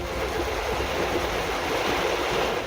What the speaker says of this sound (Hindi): पानी के बीच से गाड़ियां आ जा रही हैं।